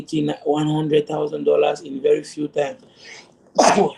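A single sharp sneeze bursts out at the very end, loud and close, right after a man's continuous speech.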